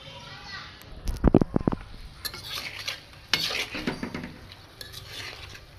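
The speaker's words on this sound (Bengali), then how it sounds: "দেখো মাছের তরকারিটা কষাচ্ছি" Fish curry being stirred and browned in a pan, with spoon scrapes and clinks against the metal, bursts of handling noise and children playing and chattering in the background of a home kitchen.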